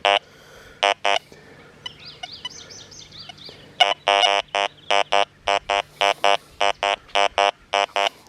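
An XP Deus 2 metal detector with an 11x13 coil sounds in a sports field over buried junk chain: a warbling high tone, then a rapid series of short, sharp repeated beeps in an irregular rhythm, loud and close with no talking.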